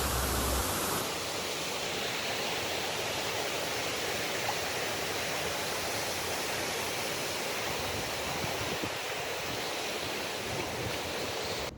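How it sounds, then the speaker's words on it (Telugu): Large waterfalls in Andharban forest give a steady, dense rush of falling and flowing water, continuous and even in loudness throughout, with no voices. "మనం ముందరికి వెళ్ళే కొద్ది వాటర్ ఫాల్స్ అనేవి పెద్దగా ఉన్నాయి కాబట్టి వాటర్ సౌండ్ అయితే నాకు చాలా బాగా నచ్చిందండి"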